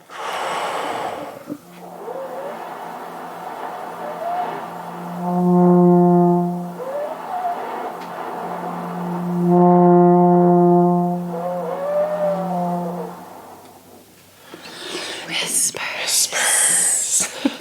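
Horn player's breath articulation: soft whispered air attacks that grow into a buzzing pre-note before two sustained low horn tones swell and fade, followed by breathy hiss, all close and solo.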